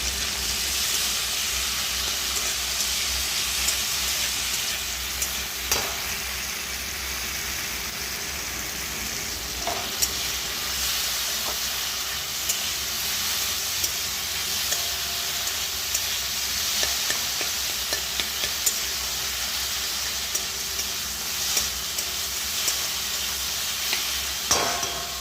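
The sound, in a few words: pumpkin chhechki frying and being stirred in a pan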